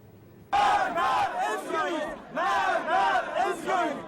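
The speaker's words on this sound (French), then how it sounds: "Mort à Israël, crie la foule de partisans de Mahmoud Ahmadinejad" A large crowd of Mahmoud Ahmadinejad supporters in Iran chants loudly in unison, in rhythmic repeated phrases that start abruptly and roll on in strong waves.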